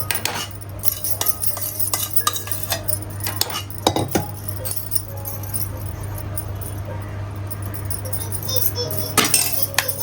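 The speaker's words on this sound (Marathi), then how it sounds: "चांगले स्मॅश करून घेऊया हे जरा. Mix proper." Potato Frankie filling being mashed and mixed in a pan with a metal utensil, producing scattered clinks and scrapes against the pan, louder bursts near the start and end, over a low steady hum.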